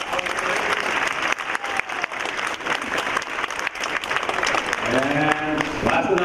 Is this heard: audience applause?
yes